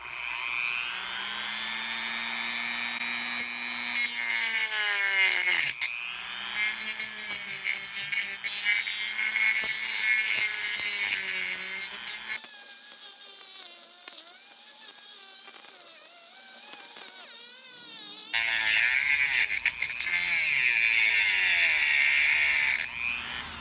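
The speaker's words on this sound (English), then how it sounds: "So I'm gonna attempt to just use a cutoff wheel" A cutoff wheel grinds through a protruding bolt on a Baja, a loud, sustained high-pitched scream that dips and rises as the load changes, with brief pauses between passes and no talking.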